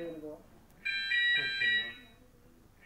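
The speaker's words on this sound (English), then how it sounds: "builders set the alarm." A building alarm set off by builders sounds as a loud, piercing electronic tone that starts partway through and holds for about a second, preceded by people talking.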